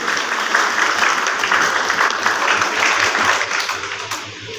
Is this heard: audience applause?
yes